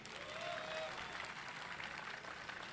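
Applause from a seated crowd at a literary conference session in Urdu, a dense, fairly distant patter of many hands clapping continuously throughout, with a faint murmur mixed in.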